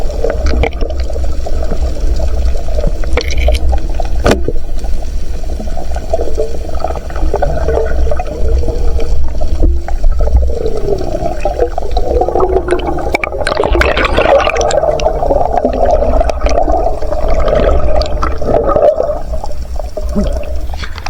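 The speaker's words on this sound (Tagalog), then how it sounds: "Grabe pagkalakas ng agos." A strong, fast current of water rushes past like a river, a loud and continuous churning roar with gurgling surges throughout and no voices.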